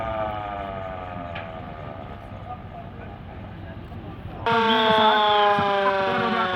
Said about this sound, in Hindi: ये सायरन बज रहा है ऊंची आवाज में